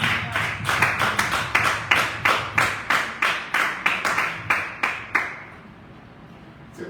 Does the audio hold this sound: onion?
no